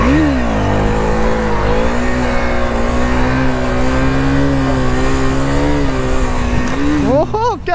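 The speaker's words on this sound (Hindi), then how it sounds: "ओहो क्या बात है, रेस लग गई है। Duke 250 versus RN5" Duke 250 and RN5 motorcycles race by with a loud, sustained engine drone that holds steady, then rises sharply near the end as the bikes pass close.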